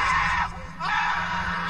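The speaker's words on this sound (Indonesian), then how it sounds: "teriakan di dalam toilet itu terdengar semakin kencang" A woman screams inside a toilet in a horror story sound effect, two loud, strained shrieks separated by a brief dip, close and echoing over a low steady hum.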